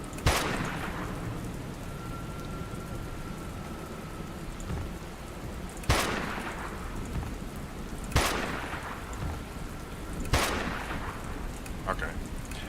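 Steady rain in the video game Dustland Delivery, hissing continuously, broken by four sharp thunder cracks spaced a few seconds apart.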